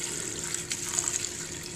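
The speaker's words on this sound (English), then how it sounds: "just blast it with water one more time, just to get it clean" Running water blasts into a bowl of sushi rice during rinsing, a steady close-up hiss and splash lasting under two seconds without pause.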